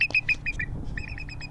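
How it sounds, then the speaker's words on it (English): Bald eagle call played from a recording: a series of short, high, thin chirping whistles in quick succession, then a softer run of repeated twittering notes, fairly clear over a low background rumble. "This is what a bald eagle actually sounds like."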